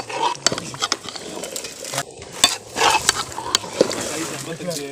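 Meat going into a pot to cook in a village kitchen, with clattering pot and utensil knocks and a soft sizzle; people talk over it.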